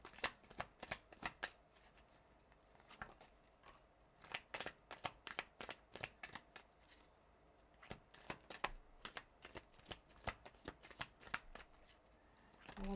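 Tarot cards are shuffled by hand close up, giving quiet repeated riffling and flicking bursts in an irregular rhythm that continue throughout.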